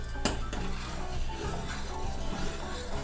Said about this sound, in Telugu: పౌడర్ వేసుకొని కలుపుకోవాలి